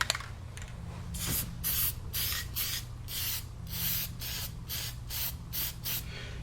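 High tack gasket adhesive being sprayed from an aerosol can onto a gasket on a 2002-2005 Land Rover Freelander manifold, a series of about ten short hissing bursts, close but fairly quiet, over a low steady hum.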